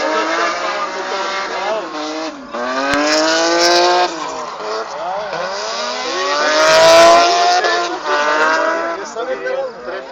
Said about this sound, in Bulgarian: Той кара с Z3 с Power мотор.